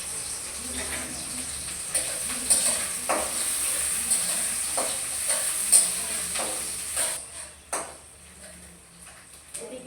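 Onions and chillies fry in hot oil in a kadai, giving a steady, close sizzle broken by occasional clatter as they are stirred, with faint voices in the background.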